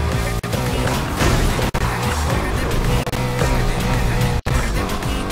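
Ford Mustang GT roaring through Need For Speed Heat, a loud, continuous engine drone with dense layered music or game sound filling the mix, briefly dipping a few times before surging back.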